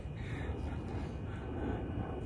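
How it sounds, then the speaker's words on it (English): A fixed-wing airplane passes overhead as a steady, broad low rumble and roar, moderately loud and unbroken, heard outdoors with no talking. "Airplane."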